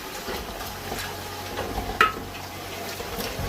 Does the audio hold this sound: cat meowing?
no